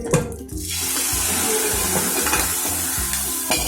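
A tadka of spices and kasuri methi poured into dal hisses loudly at first, then settles into a steady, dense sizzle that continues close and uninterrupted.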